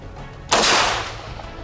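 A single loud gunshot at a shooting range with rubber training dummies as targets, one sharp close blast that decays over about a second, no talking.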